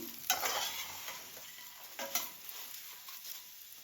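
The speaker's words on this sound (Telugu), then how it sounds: "ఆలునంతా వేసేసుకొని బాగా ఫ్రై చేసుకోవాలి" Potatoes stir-fry in a pan, with a soft continuous sizzle broken by a few sharp scrapes and clacks of the spatula, close and fairly quiet.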